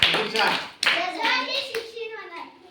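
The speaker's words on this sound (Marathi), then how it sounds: "बघा प्रतीक्षाचे नाव टाळ्या वाजवा." Children in a classroom clapping their hands, a short burst of loud, close claps at the start, then a voice speaking as the applause fades.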